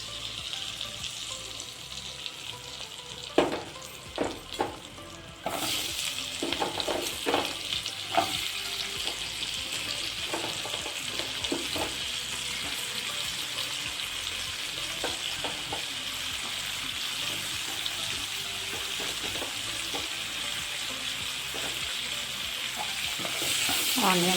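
Onions frying in a pan for paneer curry, a steady loud sizzle that jumps up sharply after a few seconds as they hit the oil, with occasional stirring clicks throughout.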